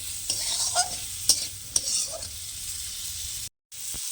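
Starfruit chutney with chili powder is stir-fried in a pan, a continuous bright sizzle broken by several distinct scrapes and clinks of a spatula, followed by a short moment of silence near the end; no one speaks.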